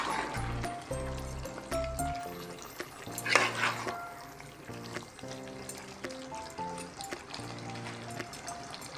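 A spoon stirs chicken and turnip curry with yogurt in a pot, soft wet scraping and sloshing close by, faint and intermittent under background music.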